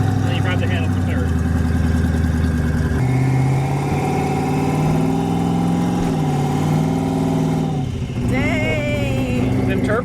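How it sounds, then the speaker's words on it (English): A twin-turbo Ford Mustang engine revs while driving, its loud steady drone rising and falling in pitch through shifts across the whole stretch. "Dang! Them turbos be loud, right?"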